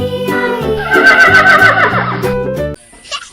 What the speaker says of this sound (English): this one is a horse.